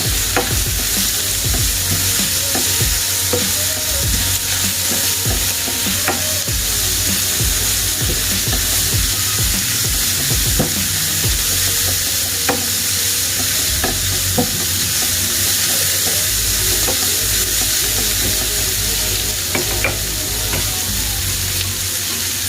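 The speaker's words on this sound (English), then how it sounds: "let them sweat a little bit, the onions themselves." Onions sweat in a hot pan for beef stroganoff, with a constant loud sizzle and repeated scraping, clacking strokes of a utensil stirring them, close up and steady over a long stretch without speech.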